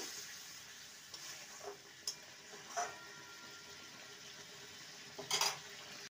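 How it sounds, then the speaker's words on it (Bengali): A spoon stirs katla fish posto in a pan over a faint, low sizzle, with a few scattered scrapes and one brighter clatter of metal near the end. "ভালো করে নেড়ে নেব"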